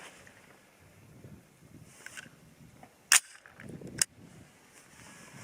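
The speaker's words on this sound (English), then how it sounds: "So let's see how they do." A Bear Creek Arsenal varmint rifle with a 24-inch barrel fires rounds loaded with Benchmark powder. Two sharp, loud cracks sound about a second apart over a quiet outdoor background.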